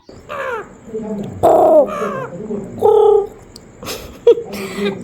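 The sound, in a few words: pet parrot imitating a crow's call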